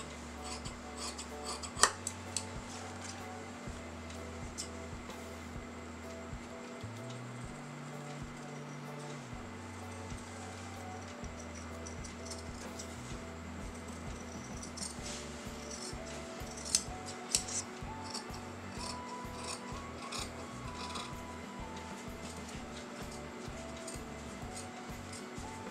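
Scissors cutting a U-shaped neckline out of canvas fabric for a kameez or kurti, a steady run of close snips and rubbing blade strokes over a constant low electrical hum, with no talking.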